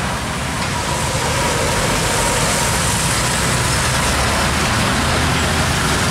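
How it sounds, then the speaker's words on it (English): An empty Scania truck trailer rolls past on a road, a loud, steady diesel engine and tyre roar blending into broad traffic noise, close by and unbroken, with no clear speech. "Trailer kosongan."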